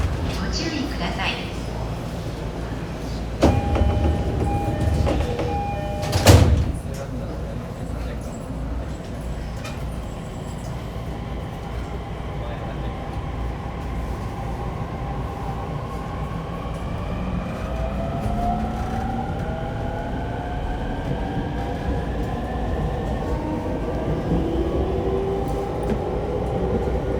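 An E231-1000 series commuter train on the Shonan-Shinjuku Line runs between stations, heard from inside the car: a continuous rumble with clanks and a brief loud jolt early on, then rising and falling motor whine as it accelerates.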